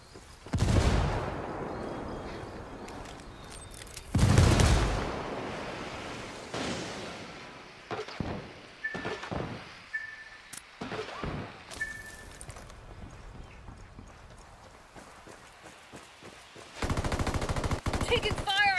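Gunfire in a Ghost Recon Wildlands PvP match: loud bursts and heavy rolling booms, scattered single shots in between, then a sustained rapid automatic stream near the end. Voices talk at times between the shots.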